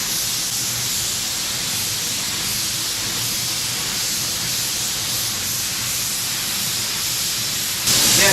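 A spray gun sprays sealer onto an old truck, producing a loud, steady hiss that runs unbroken and grows slightly louder just before the end.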